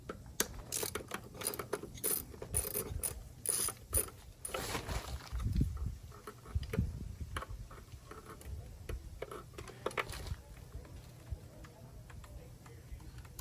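A ratchet loosening 12mm bolts on a car's power steering pump, heard as bursts of quick, close mechanical clicking with brief pauses between turns.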